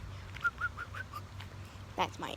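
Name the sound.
person imitating a bird call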